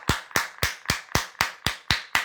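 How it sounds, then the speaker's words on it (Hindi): A church congregation claps in unison, producing nine sharp, evenly spaced claps in a steady quick rhythm, loud and close with no talk over them. "एक बार प्रभु यीशु मसीह के लिए जोरदार तालियां"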